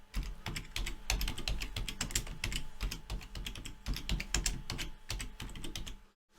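Rapid clattering keystrokes on a computer keyboard as a title is entered, a dense irregular run of close, crisp clicks lasting several seconds before stopping abruptly, with no talking.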